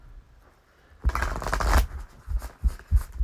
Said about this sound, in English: shuffle some cards.